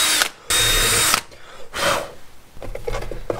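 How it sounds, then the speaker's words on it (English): A power drill enlarging a hole in a wooden motorcycle side cover: two loud, close bursts of whirring drilling with short pauses between, then quieter scraping and handling noises. "Looks like I'm gonna have to drill this one out a little bigger."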